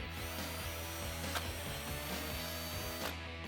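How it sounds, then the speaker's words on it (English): A power drill with a 3/16 inch bit boring a pilot hole on a Jeep Wrangler JK during a lift kit install, a steady, continuous whirring grind held close and loud throughout, with no voices. "So I'm going to start by drilling a pilot hole with a 3/16 inch drill bit."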